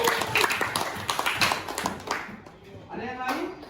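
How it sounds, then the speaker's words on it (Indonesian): A classroom of students applauds, a burst of brisk overlapping clapping that fades out, followed by a voice speaking. "Tepuk tangan buat mereka."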